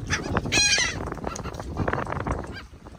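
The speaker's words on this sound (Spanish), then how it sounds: "Pájaros bobos." Booby seabirds on a reef give honking, goose-like calls, one loud call standing out near the start with others scattered around it at close range.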